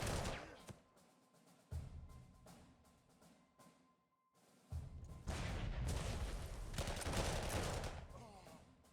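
Gunfire and explosions from the Panzer Corps 2 strategy war game, Soviet forces in battle: a loud volley of crackling shots, a quieter lull, then a heavier, sustained barrage of bursts and booms with talk underneath.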